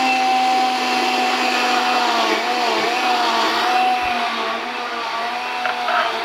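A blender whirs steadily while blending and emulsifying a beef dish puree, a loud, continuous high motor whine with a slight dip near the end, sounding alone for several seconds.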